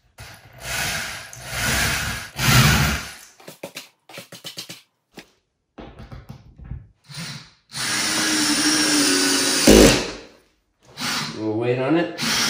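A power drill countersinks a screw hole in a squeaky floor, with a few loud whirring bursts broken by pauses, clicks and handling noise, and a longer sustained drilling run near the end.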